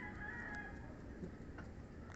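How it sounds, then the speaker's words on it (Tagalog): Chickens inside a house cluck softly against a steady background hum, with a few brief calls rising now and then; no one speaks. "Tatlong mga manok na nasa loob ng bahay"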